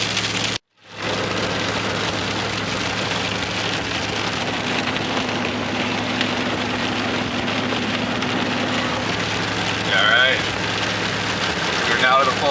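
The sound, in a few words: rain and snowflakes splatting on car windshield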